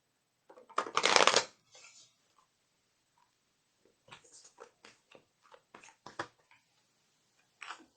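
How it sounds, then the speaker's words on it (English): Tarot cards being shuffled by hand, with one loud riffle at the start and then a series of soft, quick flicks and slaps spread out and close by. "Let me just give these a really good shuffle here."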